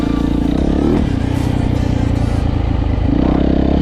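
A Yamaha motorcycle engine drones loud and close while riding through mud in a forest, steady with a brief rev, over a rough clattering, scraping ground noise.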